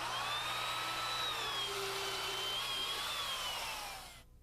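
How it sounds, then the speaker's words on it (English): A heavy-duty power drill with a sharp auger bit bores holes for a wooden house floor foundation, whining steadily at a high pitch for several seconds, its tone wavering slightly under load before cutting off. "We use a heavy-duty drill motor and a good sharp auger bit to drill our holes."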